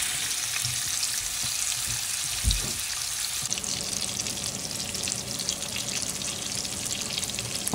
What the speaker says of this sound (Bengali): সবগুলো মশলা দেওয়ার পর আমি এখন চলে গেলাম ফ্রাই করতে।